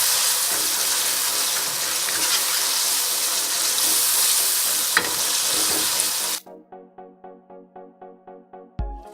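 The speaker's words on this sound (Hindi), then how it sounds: "और फिर इसे सही से मिक्स कर लेंगे।" A boneless chicken handi mixture with crushed chilli and salt sizzles steadily in a pan as it is stirred, with a sharp clatter near the end before it cuts abruptly to quiet, pulsing music.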